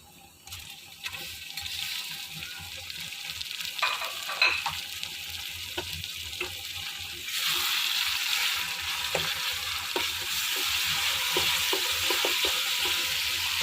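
Two tomatoes frying in a pan with ginger-garlic paste for a mixed vegetable curry, a soft crackling sizzle with occasional stirring clinks that swells into a louder, steady hiss halfway through.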